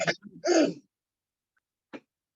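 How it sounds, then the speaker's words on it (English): A single sneeze from an adult during a morning talk session, a loud burst of breath and voice followed after a pause by a brief faint sound, with no speech. "Sneezing. Sorry. Very sorry."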